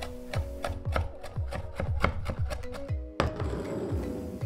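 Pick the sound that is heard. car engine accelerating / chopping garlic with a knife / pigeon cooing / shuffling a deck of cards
chopping garlic with a knife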